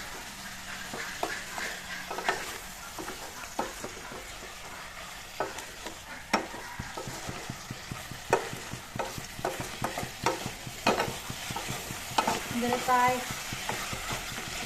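Chicken pieces coated with coriander and cumin powder fry in oil for a dry chicken curry, giving a steady, close sizzle broken by repeated scraping and clattering stirs, with occasional brief talk.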